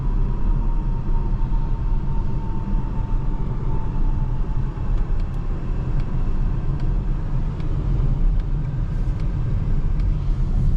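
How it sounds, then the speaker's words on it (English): A 2024 Polestar 2 Dual Motor electric car drives steadily with a constant low road rumble and tire noise, no engine roar, and faint high ticks toward the end. "This car is quite fast."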